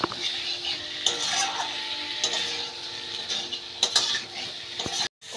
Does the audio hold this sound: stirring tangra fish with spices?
yes